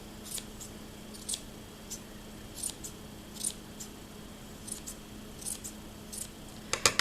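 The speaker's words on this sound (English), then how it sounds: "Make sure you get all the loops cut." Scissors snip through the yarn loops of a pom pom made on a piece of cardboard, giving a series of sharp, close, quiet cuts at irregular intervals over low background hiss.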